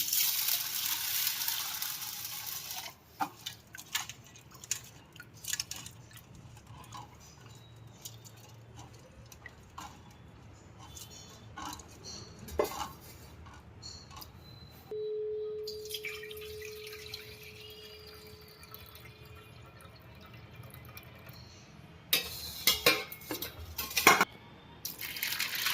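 Moong and toor dal are washed in water in a home kitchen: faint, sporadic drips, splashes and small clicks of lentils and water in a bowl, heard alone without talk.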